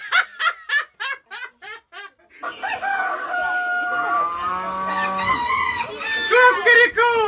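A human voice imitates a rooster's cock-a-doodle-doo in a theatre stage show, a few short shrill calls followed by a longer drawn-out crow over a sustained musical backing.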